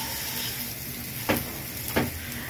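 Rice fries in a pan for homemade biryani, giving a soft, steady sizzle with two sharp scraping stirs standing out near the middle and end.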